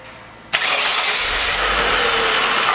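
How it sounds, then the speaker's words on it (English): A 1994 Mercedes-Benz E320 engine cranks and catches with a sudden loud burst after a quiet moment, then settles into a steady close idle. "So go ahead, Steve, go ahead and start it up, and let's get started."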